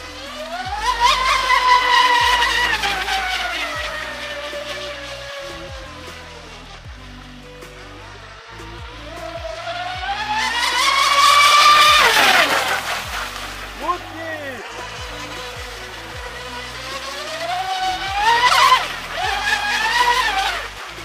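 The small high-pitched motor of a new Pro Boat Miss Geico 36-inch twin RC speedboat whines, rising and falling in pitch as it speeds up and slows, with someone talking over it much of the time.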